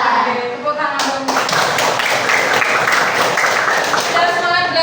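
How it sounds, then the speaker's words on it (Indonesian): Elementary school children in a sixth-grade classroom clap their hands together in a loud, close burst of rapid, overlapping claps lasting several seconds, with a voice heard briefly before it. "Oke, tepuk tangan dong."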